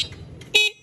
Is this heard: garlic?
no